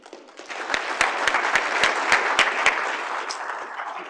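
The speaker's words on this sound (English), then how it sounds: "let's keep the round of applause going for all of our presenters, junior and mid-level" Audience applause for junior and mid-level presenters at an event, a steady dense patter of many hands with a few louder sharp claps standing out, sustained throughout and easing slightly at the end.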